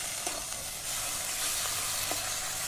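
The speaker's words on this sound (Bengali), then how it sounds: "মশলাটা ভালো করে কষানো হয়ে গেছে।" Spice paste (masala) fries in a pan, giving a continuous hissing sizzle with a few soft knocks and stirs from a spoon.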